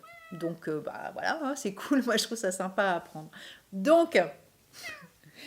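A pet cat meows insistently and repeatedly at close range, the cries mixing with and overlapping someone speaking French throughout.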